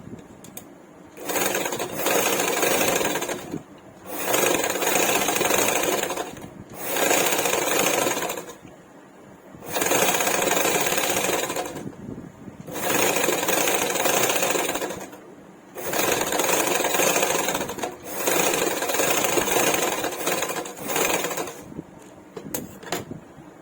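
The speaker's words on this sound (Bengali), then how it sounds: "এবারে এর উপর থেকে একটা চাপ সেলাই দিয়ে নেব।" A sewing machine stitches baby frock fabric in repeated bursts of steady whirring, about seven runs separated by short pauses, close and fairly loud.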